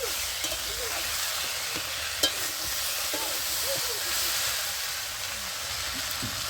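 Malabar spinach stems sautéing in a pan for a spinach chorchori, giving a steady soft sizzle with occasional scrapes and clinks of a stirring utensil, close by and without talk.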